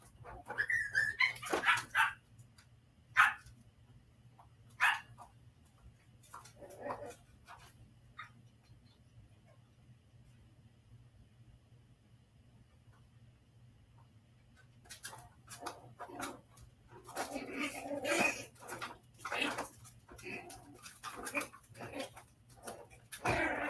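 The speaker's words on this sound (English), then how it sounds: "my little puppies is showing out so bad" Puppies bark and yip in sharp, scattered bursts, falling quiet for several seconds midway before breaking into a livelier run of barking toward the end; no one speaks.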